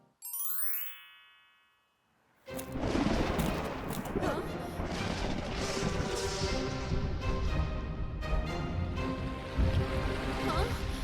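In an animated cartoon, heavy rain sweeps in as a dense, loud, continuous hiss and patter after a short chime and a moment of silence, with no voices.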